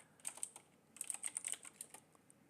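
Quick bursts of keystrokes on a computer keyboard while typing a search, two clusters of light clicking with a short pause between, close and fairly quiet.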